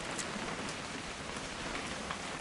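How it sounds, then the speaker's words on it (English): Steady, dense rain pours throughout in the video game What Remains of Edith Finch, a close, even hiss of drops on surfaces with no voices. "It's gonna rain the whole weekend"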